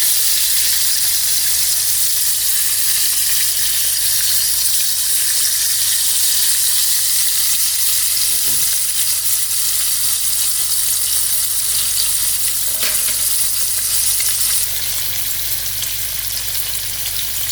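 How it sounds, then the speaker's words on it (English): Fish frying in a pan for Kerala fish curry, giving a steady, dense sizzle and hiss that holds loud and unbroken, with a couple of soft clinks partway through and a slight drop near the end. "After 20 seconds, flip the fish very gently."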